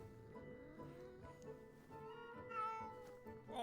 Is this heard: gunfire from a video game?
no